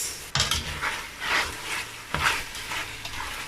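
Rice and spaghetti jollof frying in a pot is stirred with a utensil, giving scraping, clattering bursts over a steady sizzle, with a couple of sharp knocks against the pot.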